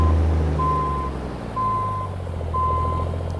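A reversing alarm beeps three times in a steady, evenly spaced rhythm over the low rumble of an International 9900i semi truck's engine in American Truck Simulator as it backs a trailer up, with no one talking.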